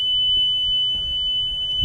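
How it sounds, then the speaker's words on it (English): A single high-pitched electronic septic system high water alarm sounds steadily and loudly throughout, unbroken over a low background rumble. "Let me test the high water alarm just to make sure."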